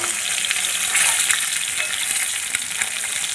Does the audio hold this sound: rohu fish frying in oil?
yes